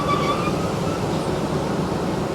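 Broad, steady rumble and clatter of a train rolling through a small station on the Thailand railway, a continuous mid-loud rushing with no voices.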